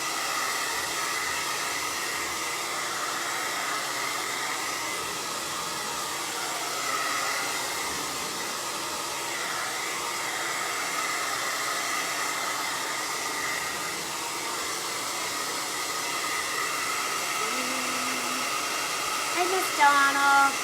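A hair dryer blows steadily for the whole stretch, drying paint at close range, a constant loud airy roar with no clear pauses.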